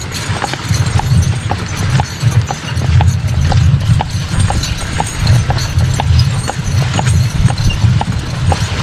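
Close, loud clip-clop of Amish horses' hooves walking on a hard road, a steady even rhythm of clacks continuing throughout.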